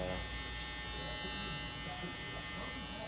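Electric hair clippers run with no guard and the lever open while blending a burst fade from the skin up. A continuous close buzzing hum holds steady for a few seconds.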